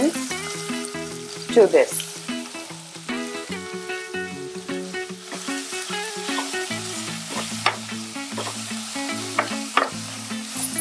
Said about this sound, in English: So oil is almost ready, and I'm going to add the diced onions